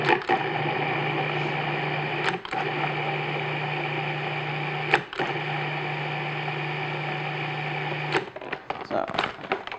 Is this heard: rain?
no